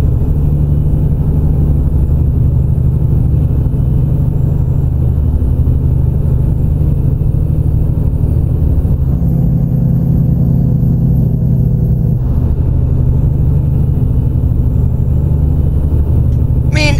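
A truck engine with Creechbomb engine sounds in American Truck Simulator, a steady low diesel rumble and drone, loud and constant, with slight shifts in tone along the way.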